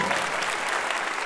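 Audience at a stand-up comedy show in Portugal breaks into dense, steady applause, a continuous wash of many hands clapping at once with no pause across the brief moment.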